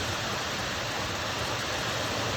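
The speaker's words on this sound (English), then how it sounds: "waterfall." A waterfall in Playfield Park gives a steady, loud, broadband rush of falling water, continuous and close, with no voices.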